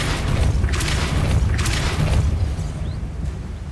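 A Depulso spell blast from the video game Hogwarts Legacy: a loud, rumbling boom with bursts of crackling energy, repeated a couple of times over a continuous deep low rumble, with no talk.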